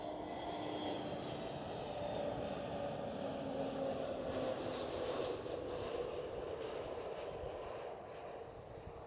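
An EasyJet Airbus A320neo at Schiphol Amsterdam airport gives a steady, distant jet engine roar that drifts and fades slightly near the end, with no voices.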